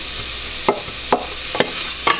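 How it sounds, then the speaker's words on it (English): Chopped onion sautés in a dry pan with no oil for a corn chowder, giving a steady, close hissing sizzle broken by a few sharp scrapes of stirring. "So you can hear that saute, you can hear that sizzle"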